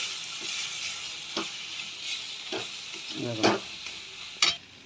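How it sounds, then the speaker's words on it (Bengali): Chili and turmeric powder masala sautés in a pan for aloo dum, a soft continuous sizzle broken by several scraping stirs and spatula knocks against the pan, one sharper clack near the end. "নিয়ে নেবো লঙ্কা গুঁড়ো, দিয়ে নেবো হলুদ গুঁড়ো, দিয়ে একটু ভালো করে কষে নিতে হবে"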